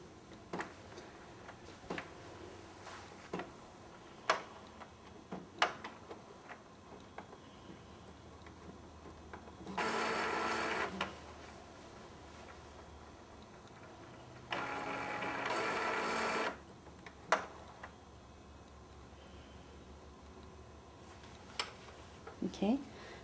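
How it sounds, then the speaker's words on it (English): An Epson Stylus Photo C120 inkjet printer powers on and runs its startup cycle: scattered mechanical ticks and clicks, with two longer bursts of loud whirring motor and carriage noise, heard fairly close with a voice talking at points. "you want to plug your printer back on at this time"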